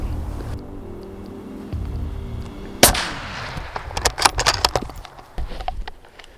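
A single sharp rifle shot while hunting wild meat outdoors on a high-country station, a loud close crack that trails into a rolling echo, set against low wind or engine rumble with scattered clicks and knocks afterward.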